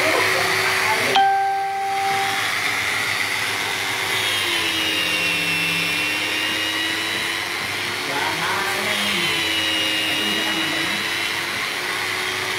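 A hand angle grinder fitted with 240-grit sanding disc polishes a knife blade toward a mirror finish, giving a steady continuous whine with shifting pitch as the blade moves against the abrasive, close and loud throughout.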